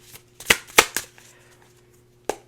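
Tarot cards being shuffled by hand during a reading, with a few sharp riffling snaps in quick succession, then a pause and one more flick, close and fairly quiet against a low steady hum.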